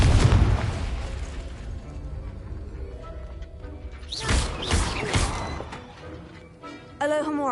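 A Confringo fire spell explodes in Hogwarts Legacy with a heavy booming burst and several crackling blasts, loud and close, as other game effects play around it.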